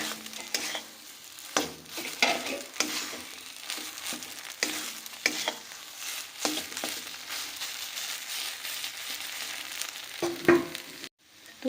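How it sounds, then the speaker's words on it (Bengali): Mustard greens chutney frying in a kadai, with a spatula scraping and stirring in repeated strokes over a steady close sizzle, and no voices. "আরও বেশ কিছুক্ষণ ভাজা করে নেবো।"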